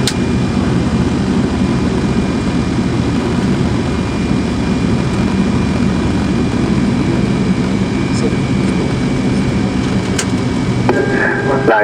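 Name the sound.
Fokker 100 jet landing with reverse thrust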